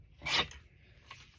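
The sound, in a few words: scissors cutting magazine paper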